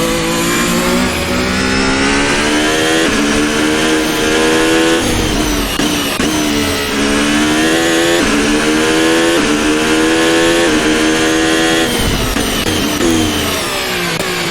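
Ferrari F1-75 Formula 1 car from 2022 in Assetto Corsa, its high-revving engine screaming loud and close as it accelerates hard through rising gears, with several brief upshift dips and no talk.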